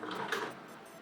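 Epson L4260 inkjet printer starting up a nozzle test print, a soft mechanical whir with faint ticking, close and steady for a second with no talking.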